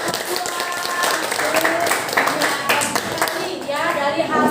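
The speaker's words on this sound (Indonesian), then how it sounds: "Terima kasih. Tepuk tangan." Schoolchildren in an Indonesian classroom clap together after a group presentation, a dense burst of quick hand claps with some taps, as children's voices chatter and call out throughout.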